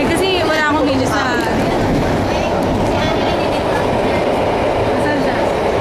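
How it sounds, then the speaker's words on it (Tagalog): A Singapore MRT train runs loudly and steadily, with a continuous rail rumble and clatter filling the whole stretch and squealing wheel tones near the start. "Ito po ang MRT."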